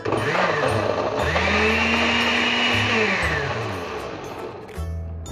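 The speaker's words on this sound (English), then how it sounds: "Once everything is in the blender, you just blend it up until smooth" A blender whirs loudly and steadily blending soy ginger salad dressing until smooth, its motor pitch rising and dipping as it mixes, then winding down near the end.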